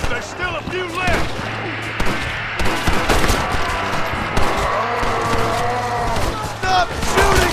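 Rapid gunfire in Red Dead Redemption: Undead Nightmare, dense overlapping shots and bursts crackling continuously and loudly, with shouting voices mixed over the shooting throughout.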